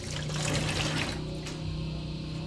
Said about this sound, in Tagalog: Lagyan kaya natin ng tubig